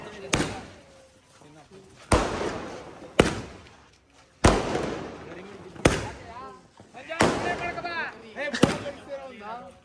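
Firecrackers set off outdoors during a Ganesha festival celebration, with several sharp, loud bangs spaced a second or two apart, each followed by crackling decay, while people talk and call out between the blasts.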